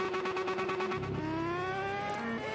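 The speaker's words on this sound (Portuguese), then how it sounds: "Tô esquentando o motorzinho aqui dela" Honda Titan motorcycle engine idling while it warms up, a steady close hum with a strong sustained tone and faint pitch shifts as it runs alone.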